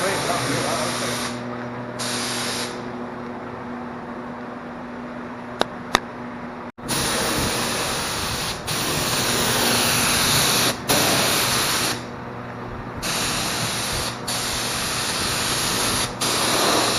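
A spray gun lays gunmetal paint onto a bare-metal Nissan S15 body, a loud continuous hiss broken by brief pauses and trigger releases, with occasional clicks.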